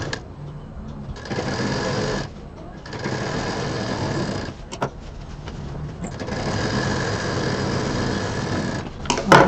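An electric sewing machine stitching fabric for a large bag, its rapid mechanical whir running in long bursts with short pauses between, close and loud, stopping and restarting several times.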